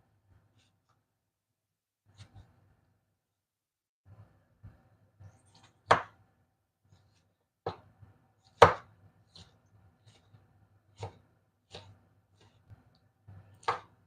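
Tomatoes sliced with a knife on a cutting board in a home kitchen, a series of sharp chopping strokes spaced irregularly over a low steady background hum, no talking.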